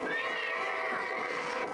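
A horse in a video game gives a short, bright whinny that stays loud and close for under two seconds.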